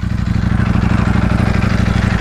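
Ducati Panigale V4S motorcycle engine idling up close, a loud, steady, rhythmic low throb with a fast, even pulse and no talking over it.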